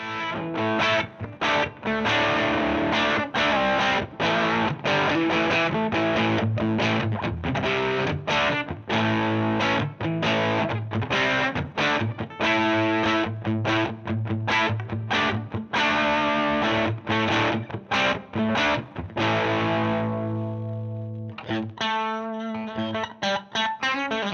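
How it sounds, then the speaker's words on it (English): An electric guitar played through budget distortion and fuzz pedals, chugging rhythmic chords and riffs with a thick, saturated buzz, loud and continuous, no talking. "In this range of pedals currently, there are a blues overdrive, a distortion, and a fuzz pedal."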